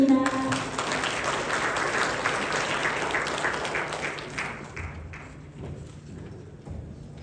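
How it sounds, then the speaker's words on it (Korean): Dense audience applause at a Korean corporate talk session on SAP Korea's organizational culture, loud at first and gradually thinning and fading over about seven seconds in a large hall. "큰 박수 부탁드립니다."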